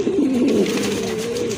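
A blackless satin pigeon gives a loud, close, drawn-out coo that wavers and rolls for over a second, with no other sounds.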